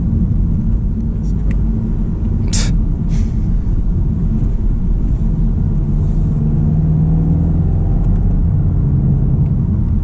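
A 2024 Volkswagen GTI MK8 with a DCT gearbox accelerates in second gear, heard from inside the cabin as a loud, steady low engine rumble with road noise, broken early on by a few brief clicks.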